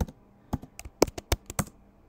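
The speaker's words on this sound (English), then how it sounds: "Type your password." Someone types a password on a computer keyboard, producing about ten quick, close, irregular clicks and taps with short pauses between them.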